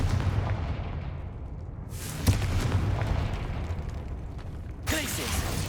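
Confringo fire spell blasts in Hogwarts Legacy, with a sharp explosive burst near the start and another toward the end, over a steady rumbling game background and faint voice.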